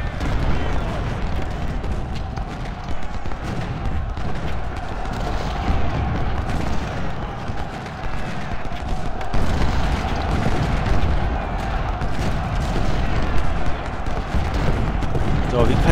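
Continuous rattling musket volleys and booming cannon fire from a Civil War battle at Second Bull Run in Ultimate General: Civil War, dense and steady throughout, with someone talking quietly underneath.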